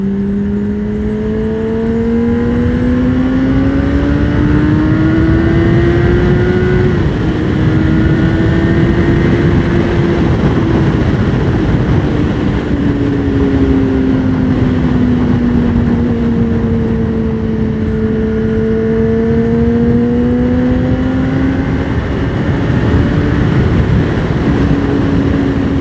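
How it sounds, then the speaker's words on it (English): Honda CBR600RR motorcycle engine screaming at very high revs, a loud, sustained, piercing whine that rises and falls as the speed changes. "It's so high in the rev range. The bike is absolutely screaming."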